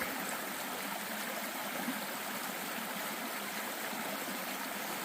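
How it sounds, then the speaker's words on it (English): Steady rushing and trickling of Upper Laurel Fork stream flowing over rocks on the Appalachian Trail, continuous and fairly close, with no voices. "I love the sound of water."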